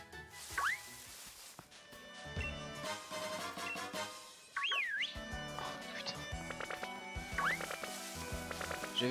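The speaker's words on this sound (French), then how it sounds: "J'avais oublié qu'on pouvait siffler dans ce jeu" Player character whistling in Pokémon Shield, heard as three short rising-and-falling whistle phrases spread across a busy backdrop of game music and effects.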